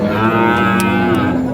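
Crossbred bull cattle at Kaharol cattle market moo loudly and close by, a sustained, rich lowing call with no talk over it.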